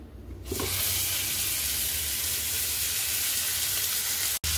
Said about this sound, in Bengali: একটু সাদা তেল আর বাটারে মাছটা ভাজবো